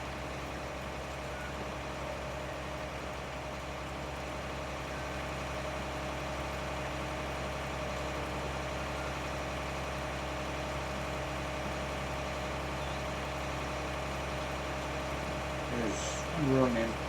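A simulated farm tractor in a farming video game runs steadily and flat out while cultivating, making a constant droning engine hum that barely changes for the whole stretch. A brief clunk comes near the end.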